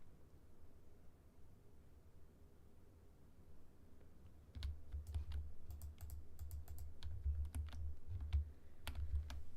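Typing on a computer keyboard, quiet at first, then a run of crisp key clicks and taps picking up partway through, close and fairly soft with no talking.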